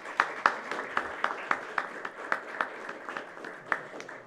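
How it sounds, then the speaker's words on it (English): An audience at an after-sales service business panel event gives the panelists a round of applause, a fairly thin, even run of individual claps heard at a modest distance. "Loud round of applause, ladies and gentlemen, for the whole set of panelists"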